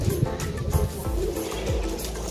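A pigeon nearby gives a run of soft, low, repeated coos in a bobbing rhythm, with light background noise and no talk.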